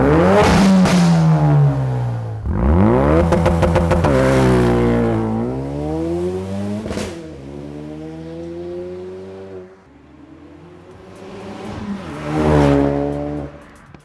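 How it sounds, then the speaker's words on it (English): A 2016 Ford Focus RS with an aFe Takeda cat-back exhaust revs loudly close by, several sharp throttle blips rising and falling, with a short settle near idle between pulls. "we got our aFe Takeda catback exhaust installed on our 2016 Focus RS. It sounds absolutely amazing."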